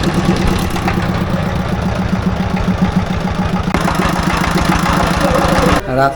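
Steady, close drone of a speed boat engine running with a fast rhythmic chug, holding constant before a brief dip near the end.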